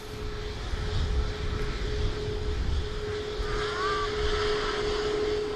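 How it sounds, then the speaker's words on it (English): A Ryanair airliner bound for Naples departs from Manchester Airport, its steady engine roar filling the air at a distance with a constant tonal whine, heard alone without talk. "Beautiful departure."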